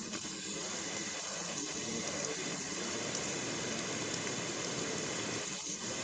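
Rain falls steadily on a roadside where a MAN truck with a lowbed trailer is stopped, a continuous soft hiss of drops at a low, even level with no talk over it.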